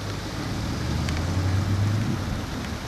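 Quaking aspen leaves rustle outdoors in a steady, dense hiss, like light rain, with a low rumble underneath and no voices.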